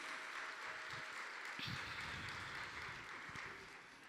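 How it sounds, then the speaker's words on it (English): An audience applauds at a women's conference, with a steady wash of clapping heard from within the crowd and a few louder claps near the start. The applause fades slightly toward the end. "So let's give a round of applause to Kendra"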